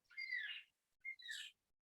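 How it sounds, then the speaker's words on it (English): Birds sing in the background of a quiet indoor meditation session: two short bursts of bright, whistled chirps, each under a second, fairly faint and heard on their own with no talking. "I don't know if you can hear our birds here in the background"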